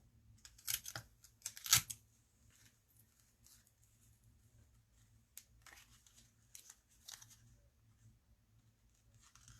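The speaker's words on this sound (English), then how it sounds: "We need a couple pieces of tape." Pieces of tape are torn off during paper crafting, two quick raspy rips close by, then faint scattered rustles and light handling sounds in a quiet room.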